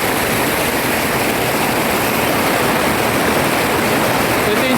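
Steady, loud rush of flowing water, continuous and unbroken throughout, like a nearby stream or small waterfall.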